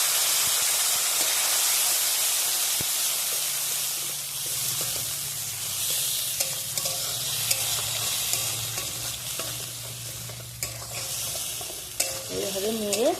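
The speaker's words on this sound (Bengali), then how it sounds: "এবার আমি ওর মধ্যে সব বেটে রাখা মশলাগুলো দিয়ে দিচ্ছি।" Ground spice paste hits hot oil in a pan for a raw jackfruit curry, bursting into a loud hissing sizzle that settles down as it is stirred, with scraping and clinking of the spoon toward the end.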